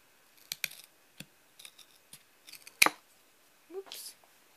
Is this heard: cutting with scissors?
yes